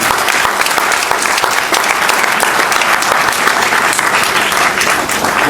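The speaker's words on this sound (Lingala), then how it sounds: "Est-ce que vous voulez bien, s'il vous plaît, applaudir fortement la Fondation de l'Église de Jésus?" Loud, continuous applause from an audience at a church foundation event, dense and steady throughout with no break, the clapping massed into a thick wash of sound.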